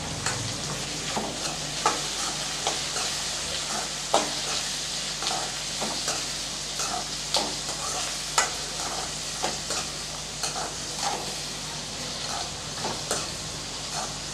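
Tomatoes sautéing with onion and garlic in a pan for vathakuzhambu, a steady close sizzle with regular scraping stir strokes every second or so, no talking.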